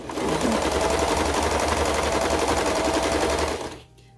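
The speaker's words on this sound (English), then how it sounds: "I'm just going to serge and I'm going to hold onto my tag." A serger sewing machine stitches a satin tag onto a fabric seam, producing a loud, steady, rapid mechanical whir that runs for several seconds and then stops abruptly.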